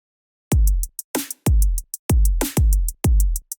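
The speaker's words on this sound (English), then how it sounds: "there's my 16th note hi-hats" A programmed drum loop in Ableton Live plays fast, even sixteenth-note hi-hat ticks over punchy kick drums and a snappy snare, crisp and dry.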